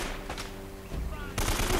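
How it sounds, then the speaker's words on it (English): Machine gun fire in the video game Uncharted: Drake's Fortune, a brief burst of rapid, dense shots that grows louder toward the end of the short clip. "Machine gun."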